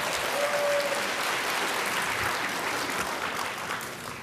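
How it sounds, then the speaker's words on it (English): Audience at a leadership convention applauds, a dense sustained clapping from a large crowd in a conference room, steady and then slowly fading. "Just give yourself a round of applause."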